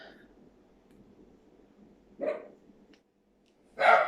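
Small dog giving two short yapping barks about two seconds apart, outdoors with faint background noise.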